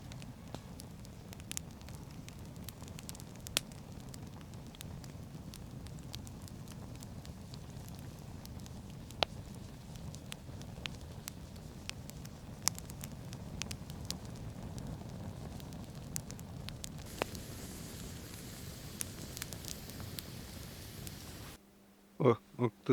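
Campfire by a river during a January fishing trip, with steady low crackle and scattered sharp pops running throughout, close by and fairly quiet, stopping abruptly near the end.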